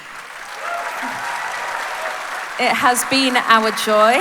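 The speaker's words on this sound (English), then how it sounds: "Please give yourselves a big old round of applause" Festival audience applauding at a live podcast recording, a steady crowd clapping wash that continues beneath a voice speaking over it in the second half.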